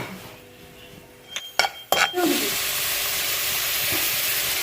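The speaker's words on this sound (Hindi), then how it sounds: "2 टेबल स्पून जो है ऑयल डाला है हमने। अब हम इसमें ये गार्लिक डाल देंगे।" Garlic for restaurant-style chilli chicken is dropped into hot oil in a pan, a few clinks of utensils first, then a sudden loud sizzle that settles into a steady frying hiss.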